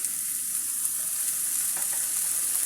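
Bottle gourd peel and potatoes frying in a pan while being stirred, a steady close hiss of sizzling oil with soft scraping, continuous and fairly loud, no voices.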